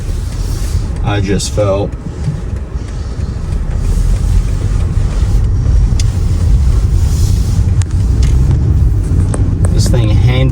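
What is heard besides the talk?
BMW X3 SUV driving and stopping on snow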